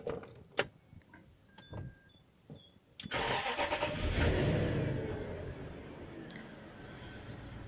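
Range Rover L322 with the 4.4-litre V8, suspected of running too rich: faint keys and clicks, then the starter catches and the engine fires with a loud rev before settling into a steady, close idle.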